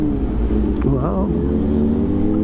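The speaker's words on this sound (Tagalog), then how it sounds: "Lakas bumomba, palibasa inline 4." An inline-four Honda CB motorcycle engine revs loudly close by, its pitch climbing and falling in one quick throttle blip over a steady, throaty idle, with a voice briefly speaking over it.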